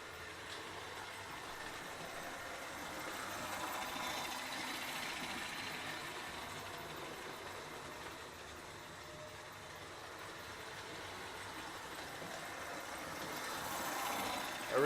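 A restored 1952 American Flyer #322 Hudson 4-6-4 toy steam locomotive with steam-in-tender revs in neutral, giving a steady, faint mechanical whir and hum that swells slightly and holds for a long stretch with no talk.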